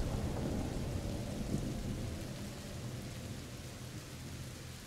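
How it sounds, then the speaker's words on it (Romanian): Heavy rain and rumbling thunder in the video game A Plague Tale: Innocence, a dense, loud, continuous downpour with a low roll of thunder underneath, heard without any talk. "Îmi place aici cum plouă și cum se vede."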